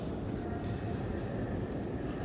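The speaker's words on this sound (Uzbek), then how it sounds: "Paxtakor metro ketdi." A Tashkent metro train rumbles through the subway with a steady, loud, low roar of wheels and car movement, unbroken across the whole stretch.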